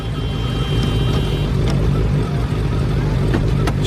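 A motorcycle engine idles and revs steadily nearby, a constant low rumble with a few sharp clicks and ticks over it and no talking.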